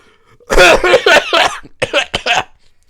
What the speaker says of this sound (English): Oh, sorry, terrible cough.